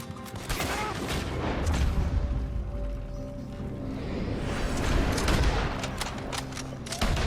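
A gunfight in the Wild West video game Red Dead Redemption 2, with dense, loud, rapid volleys of rifle and pistol shots crackling continuously amid game effects and some faint voices.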